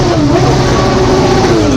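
A scooter engine revs hard and steadily at close range, its pitch drifting through a brief sustained whine with no voices.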